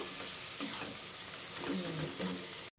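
Chicken curry masala sizzles steadily in a pan after a splash of water is added, with a continuous close frying hiss and occasional stirring scrapes.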